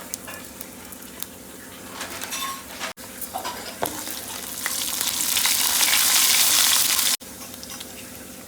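Cumin, mustard seeds and urad dal frying in a pan for aloo puttu fry, a close crackling sizzle with scattered pops and light utensil clinks that swells into a dense hiss in the later part.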